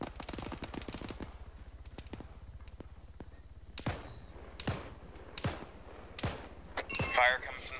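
Machine gun fire crackles in sharp, rapid bursts from the northeast during a video game firefight, some shots loud and close, others fainter, with voices talking in between.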